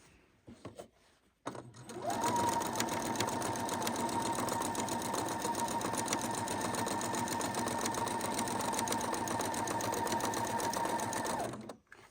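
A sewing machine runs at a steady, even pace for about ten seconds while stitching a solid white border onto a patriotic quilt, starting after a few brief handling noises.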